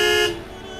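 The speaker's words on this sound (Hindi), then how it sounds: "अरे ये कौन हॉर्न दे रहा है?" A vehicle horn honks in a single short, loud blast that cuts off after about a third of a second and leaves low background noise behind.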